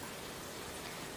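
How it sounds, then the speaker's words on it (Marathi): Papdi frying crisply in hot oil, a dense even crackling sizzle that fills the whole moment, soft and close with no voices. "छान क्रिस्पी असा आवाज येतोय."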